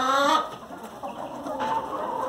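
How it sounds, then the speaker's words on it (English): Several chickens cluck and squawk excitedly close by while fighting over a piece of bow tie pasta, a busy overlapping flock with no talking. "giving our chickens one piece of bow tie pasta to fight over"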